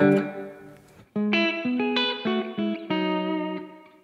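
An electric guitar plays a slow melodic phrase, its notes smeared into a lush, lingering reverb wash that fades at the end.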